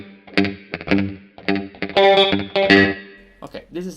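An electric guitar played through a MOOER GE200 plays a run of sustained, ringing notes with reverb and a slightly overdriven tone, each note trailing off.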